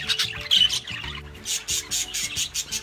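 Budgies in an aviary giving repeated harsh squawks and chattering calls, close and fairly loud, in bursts that come in a quick rhythm.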